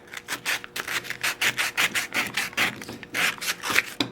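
Metal part of a Tote Gote suspension being quickly filed or sanded to remove a burr, a close, brisk series of about fifteen rhythmic rasping strokes with short gaps between them.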